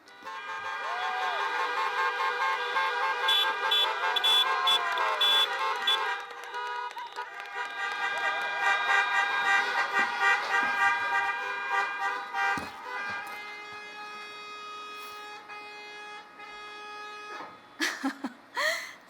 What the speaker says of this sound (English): Thank you for all the honking